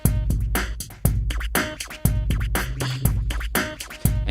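A punchy drum beat from a Korg Kross 2 drum machine, two drum kits layered with beatbox samples, repeats in a steady loop, loud and close, with sharp kicks marking each bar.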